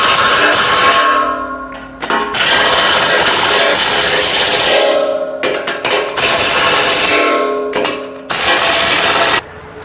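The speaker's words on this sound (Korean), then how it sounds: "지금 임팩은 2분의 1짜리가 아니고 4분의 3짜리 임팩이고요" A 3/4-inch impact wrench tightens bolts on a tractor-mounted hydraulic log splitter, loud and close, firing in several hammering bursts of a second or two separated by short pauses.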